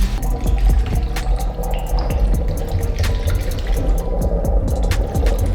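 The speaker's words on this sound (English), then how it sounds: "Now we're gonna begin pouring this red line, super cool," Red Line SuperCool coolant poured steadily into the cooling system of a 2018 Honda CBR600RR, a continuous close liquid trickle and splash with small gurgling bursts throughout, no talking.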